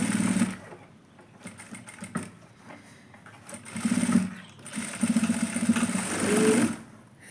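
A sewing machine stitches the collar of a kurti, running in several loud bursts of rapid mechanical whirring separated by short pauses.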